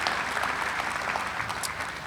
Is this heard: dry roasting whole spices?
no